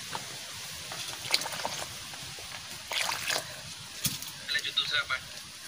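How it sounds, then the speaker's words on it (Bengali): Hot water poured into a salted pitha mixture in a home kitchen, heard as soft trickles and sloshing splashes in short bursts that get stronger toward the end, with no talking. "গরম জল দিয়ে দিচ্ছি"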